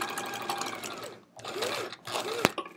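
Sewing machine stitching binding onto a quilted hedgehog wall hanging, a rapid mechanical whir in short bursts with pauses between, close and moderately quiet, with a sharp click near the end.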